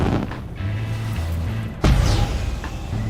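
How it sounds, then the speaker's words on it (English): Fireworks launched from a ship in the space game Elite Dangerous, with a sharp, loud boom about midway followed by crackling bursts over a steady electronic music and engine drone. "Here comes the fireworks."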